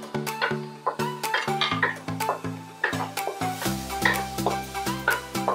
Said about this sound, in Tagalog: Maglalagay na po tayo ulit ng oil natin. And lagay na po natin yung ating bawang.